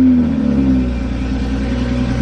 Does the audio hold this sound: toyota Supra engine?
yes